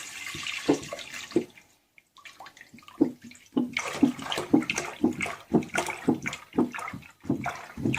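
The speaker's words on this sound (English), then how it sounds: "we're now adding the milk to the pot" Milk poured from a container into a large pot for cheesemaking, a splashing, gurgling stream in uneven glugs after a brief pause, close and fairly loud with no talking.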